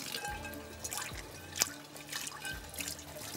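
Soaking water drained off cauliflower in a kitchen, a quiet trickle and scattered drips splashing into a sink, with faint background hum.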